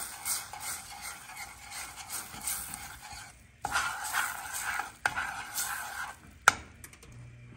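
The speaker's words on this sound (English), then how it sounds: "I really need to get a spoon and stir that just a little bit." Spoon stirring a brown sugar glaze in a pot for ham, a steady scraping and swirling with faint sizzling, a few sharper clinks of metal against the pot, no talking.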